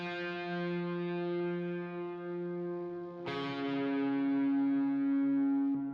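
A second melodic electric guitar for a verse rings out in long, effect-laden sustained chords, one held tone fading slowly before a fresh strum about halfway through, alone and fairly close.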